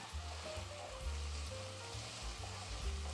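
Onion with a pinch of salt fries gently in a pan, a faint, steady sizzle with a low hum and soft tones in the background.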